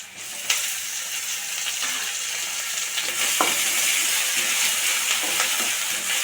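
Onions fry in a pan with pepper and curry leaves while a spoon stirs them, a steady close sizzle broken by a few scraping stirs and clinks, no voices.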